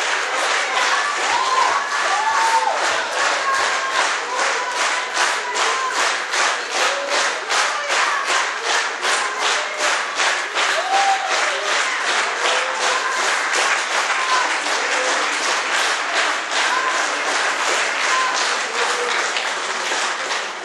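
A church congregation claps steadily in a sustained, even round of applause that stays loud throughout, with faint voices rising here and there in the crowd.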